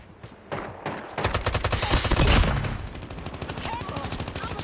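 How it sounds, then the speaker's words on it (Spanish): Rapid automatic gunfire in a ranked online shooter match, a loud sustained burst of closely spaced shots that builds and then continues in a steady rattling rhythm, with faint voices underneath. "escucho disparos"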